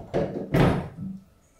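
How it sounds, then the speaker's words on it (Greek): An insulated door is set onto a traditional oven heated to about 240 degrees for baking stuffed eggplants with mutton mince, giving two dull, close thuds followed by a softer knock. "Βάζουμε την πόρτα με μόνωση"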